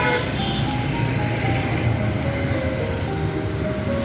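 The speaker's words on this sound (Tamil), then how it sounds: "லாரி வந்துகிட்டே இருக்குது." Steady roar of lorries and other traffic passing along a main road through a town, a continuous loud rumble with engine drone and no clear breaks, no voices.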